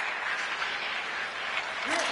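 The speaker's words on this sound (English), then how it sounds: "You can feel the energy in this crowd." An arena crowd in the hockey video game NHL 26 roars and claps in a steady, dense wash of applause and cheering, held at a constant moderate level, with a brief whistle-like rise near the end.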